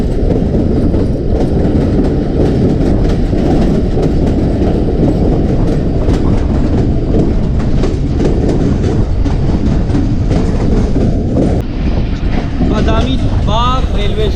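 The Ghouri Express 113UP passenger train, heard from on board near Shahdara railway station on the way to Lahore, gives a loud, continuous rumble of wheels on rails with clattering and a brief squeal near the end.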